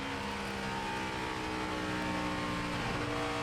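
A NASCAR Sprint Cup race car at Atlanta roars at high speed through the corners, a dense, sustained engine drone with a slight pitch shift near the end, loud and continuous.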